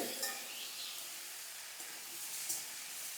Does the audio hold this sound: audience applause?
no